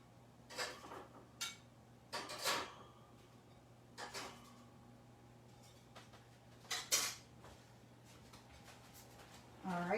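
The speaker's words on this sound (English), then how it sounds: "So I'll grab these shrimp and put them on our plate." Coconut shrimp set down on a plate: a few scattered clinks and scrapes of utensils against dishware at close range, separated by quiet pauses over a faint steady hum.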